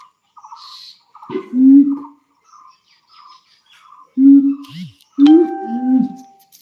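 Hanuman langur monkeys call nearby in a series of loud, low hooting whoops with short gaps, mixed with fainter higher chirps in the background.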